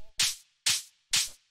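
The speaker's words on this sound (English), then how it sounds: "The first thing is this main hi-hat." A fat main techno hi-hat plays on the upbeats, three bright, breathy open hits with short decays, evenly spaced and alone.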